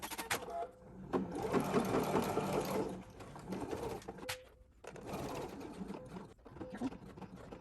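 A sewing machine stitches through a thick quilted fabric box bag. Its steady mechanical whir runs close and fairly loud, stopping and restarting in a few bursts.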